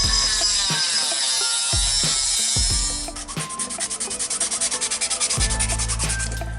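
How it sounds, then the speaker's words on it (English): A sanding stick rubs back and forth over freshly cut parts, evening the edges in quick repeated strokes. The rasping is close and steady, with a few knocks at the start and a faster rhythmic run later. "I use this sanding stick just to even out the cuts, make them level"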